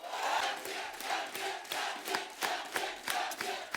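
A studio audience on The Kapil Sharma Show cheers, whoops and claps to welcome Ranveer Singh, a dense, lively crowd roar with sharp bursts of clapping throughout.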